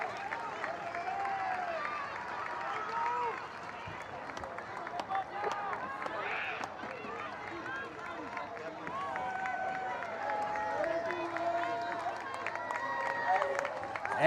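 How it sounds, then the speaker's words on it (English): Home crowd at a playoff high school baseball game clapping and murmuring steadily on their feet, a continuous mid-distance wash of applause and chatter with a voice talking over it. "As the crowd is clapping on their feet."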